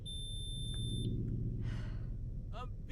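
A smoke alarm beeps after a toaster mishap, with a steady high electronic tone for about a second, then a short chirp and later a rising chirp over a constant low hum and breathing noise.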